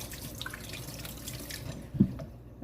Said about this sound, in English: All right, we're gonna rinse our hands.